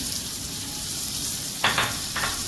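Spring onions sauté in a hot pan over medium-high flame, giving a steady close sizzle and fry with two brief louder bursts of stirring near the end.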